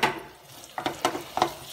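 Shallots, garlic and lemongrass fry in hot oil while fish is being cooked, a steady close sizzle broken by a few short stirring scrapes.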